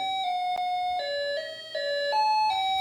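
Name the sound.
electronic calling bell music box chime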